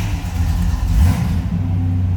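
A 1980 Chevrolet Camaro Z/28 engine fires up close by, a loud rumble that swells briefly as it catches and then settles into a steady idle.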